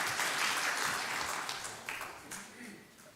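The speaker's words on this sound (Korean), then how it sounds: "자, 우리 최선을 다해 주신 우리 회장님께 박수 한번 하시겠습니다." A church congregation at a men's mission devotional service in Oakland applauds its president, a soft, fairly distant wash of clapping that slowly fades, with a few claps standing out near the end.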